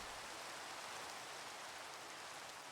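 Steady, even hiss of rain falling in Minecraft, a soft continuous wash with no breaks or distinct drops, constant and moderately quiet throughout.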